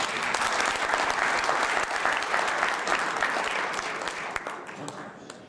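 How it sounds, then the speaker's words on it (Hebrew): Sustained applause from a conference audience at the opening session of a real estate appraisers' convention in Eilat: dense, steady clapping that stays loud and even throughout, fading slightly toward the end. "מגיע למחיאות כפיים, מגיע."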